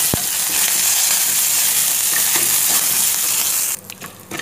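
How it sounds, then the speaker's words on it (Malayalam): Curry leaves hit hot oil in a tempering for Udupi temple-style sambar, setting off a loud, steady crackling sizzle that carries on alone before easing off near the end. "ഇതിലേക്ക് കറിവേപ്പില കൂടി ഇട്ട് കൊടുക്കാം."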